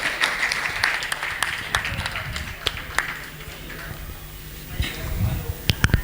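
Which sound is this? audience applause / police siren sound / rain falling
audience applause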